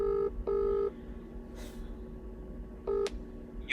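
A phone line gives repeated ringback tones in short, loud bursts, two close together and one later, with a brief rustle between them in a quiet indoor space.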